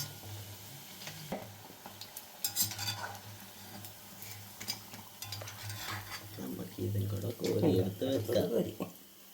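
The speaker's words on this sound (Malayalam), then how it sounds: "ബാക്കി ഇതുപോലെ തന്നെ നമുക്കങ്ങ് വറുത്ത് കോരിയെടുക്കാം" Quail egg bajji frying in hot oil in a home kitchen while being stirred, with a steady soft sizzle, scraping and stirring clatter, and a voice speaking over it throughout.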